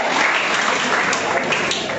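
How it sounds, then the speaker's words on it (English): An audience at a school debate competition clapping as a debater walks up, a dense, even round of applause holding steady for about two seconds with no talk over it. "please can you walk up? Clap for him"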